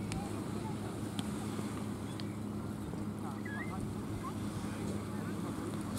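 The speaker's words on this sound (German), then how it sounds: "Fetter Dampfer das." A large steamship passing on the sea on a warm afternoon, its low, steady engine drone rumbling continuously beneath wind buffeting the microphone and the wash of waves.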